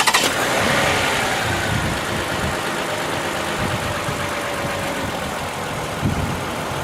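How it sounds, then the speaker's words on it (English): A car engine starts after a portable jump starter boost, cranking briefly and catching into a steady, fairly loud idle with a rough mid-pitched rumble that continues on its own. "now you can go and start the car"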